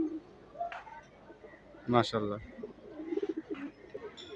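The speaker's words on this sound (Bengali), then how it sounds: "একটা সাদা কবুতর, কবুতরটা মাশাআল্লাহ খুব সুন্দর" A white racing pigeon coos in a few soft, throaty bursts close by, while someone talks over and between the calls.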